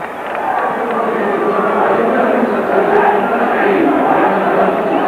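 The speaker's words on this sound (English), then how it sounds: "a few of the crowd not too happy with the referee, David Campbell" Rugby league crowd in a Wigan versus Warrington Premiership Trophy semi-final jeering the referee, a dense, steady roar of many voices filling the stadium without a break.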